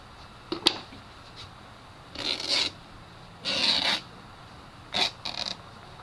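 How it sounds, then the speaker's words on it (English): Scissors or a blade trimming excess canvas material off a stretched painting canvas, heard as a few separate rasping cuts of about half a second each, close and moderately loud against a quiet room. "I'm just going to trim some of this excess"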